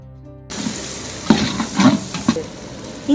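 Tomato, mint, coriander and green chilli for a large batch of chicken biryani hit the hot pot, with a steady sizzle and several scraping stirs, no one speaking.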